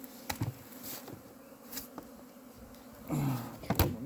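Honeybees on their spring cleansing flight around the hives, a dense close buzzing drone with individual bees swooping past the microphone in louder passes, outdoors with no speech.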